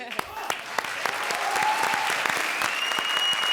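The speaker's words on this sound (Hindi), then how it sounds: "जोरदार तालियां हमारे लिए" A comedy stage show audience claps loudly, starting with a few sharp isolated claps that quickly swell into steady, dense applause filling the room.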